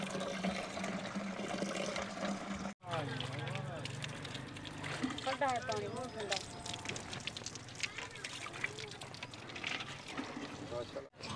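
Water gushing steadily from a hand pump at a home that lacked a water supply, a continuous splashing flow with people talking over it throughout.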